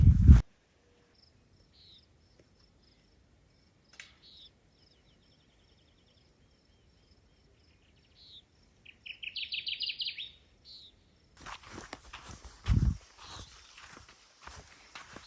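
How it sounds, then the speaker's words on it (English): Clay-colored sparrows buzz and trill at dusk on the North Dakota prairie, with common nighthawks calling; thin, faint bird calls over quiet, a louder buzzy burst midway, then rustling footsteps close by. "That's clay-colored sparrows singing, common nighthawks."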